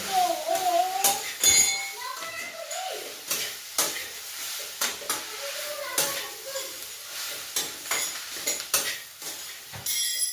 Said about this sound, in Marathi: हे तेलात परतून घ्यायचं आणि पूर्ण कांदा मिक्स करून घ्यायचा त्याच्यामध्ये